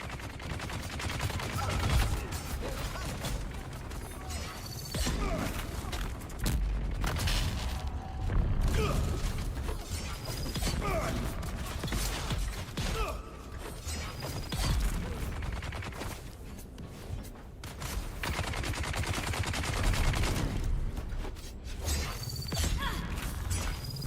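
Gunfire from about six guns pours in during a Dune RP firefight, a dense, unbroken clatter of shots and mechanical rattling that stays loud and close throughout.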